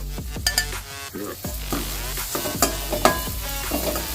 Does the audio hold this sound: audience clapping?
no